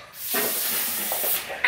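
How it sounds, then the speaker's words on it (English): Lysol aerosol spray hisses in a kitchen in one continuous burst of about a second, close and fairly loud, with no talking. "We're gonna spray some Lysol spray in the kitchen."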